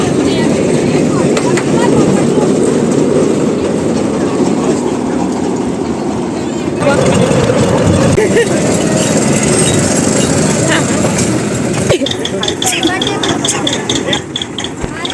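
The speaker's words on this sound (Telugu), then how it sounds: "ఈ ట్రైన్ 2 మినిట్స్కి ఒకసారి అటు ఇటు పరుగులు పెడుతూ ఉంటుంది" A toy mini train on the short run to the Elephanta Caves on Elephanta Island, Mumbai, rumbles and rattles steadily close by, with faint voices mixed into the constant rolling noise.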